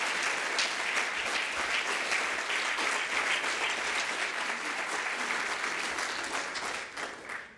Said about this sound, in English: I think we should give them a real good round of applause.